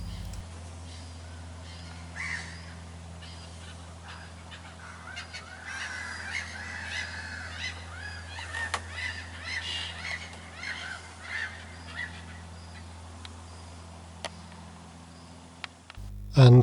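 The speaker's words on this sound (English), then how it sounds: "the amount of noise made by the black-headed gulls and terns" Many black-headed gulls and terns call noisily over a low steady hum, harsh overlapping cries and squawks rising and falling in a busy, continuous chorus.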